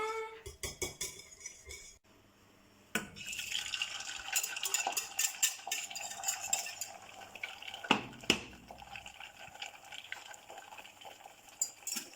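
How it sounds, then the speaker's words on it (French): Thai fried rice with eggs stirred in a pan: a metal utensil scrapes and clinks against the pan in busy bursts, with a brief pause early on, close and moderately loud. "Et il faut touiller."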